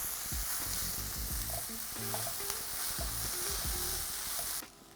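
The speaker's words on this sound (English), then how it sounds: "I'm going to fry that for about 1 to 2 minutes, just until the garlic starts to go lightly golden" Garlic and ginger fry in a pan with a loud, continuous sizzle and occasional stirring clicks, then cut off abruptly near the end.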